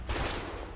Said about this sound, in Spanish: Me ha encantado cómo he pegado tres tiros